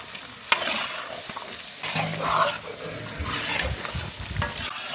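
Dumba sheep meat frying in oil with spices, stirred steadily for a big batch of food cooked for an old-age home; a constant sizzle runs throughout with scraping stir strokes and an early sharp clatter, all close up.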